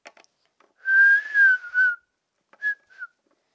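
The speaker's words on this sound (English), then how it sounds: "Maybe if I whistle." A person whistles a few clear, wavering tones close by, with a short pause before a final brief whistle, alone without talk.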